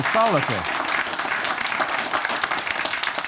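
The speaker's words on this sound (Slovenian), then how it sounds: "En aplavz, prosim." Applause for volunteer firefighters from an audience, a continuous crowd clapping that starts under a brief spoken voice and then runs on as an even, busy patter.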